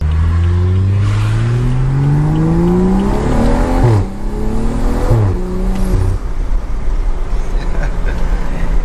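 BMW F30 335i with a loud modified exhaust, heard up close as the engine revs and climbs through the gears, each shift dropping the pitch, with crackles and pops on the overrun throughout.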